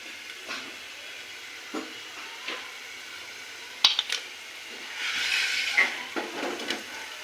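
Popcorn kernels begin popping in a covered pan, a few isolated sharp pops spaced seconds apart against a faint hiss of heat and oil, with a brief louder sizzling stretch midway.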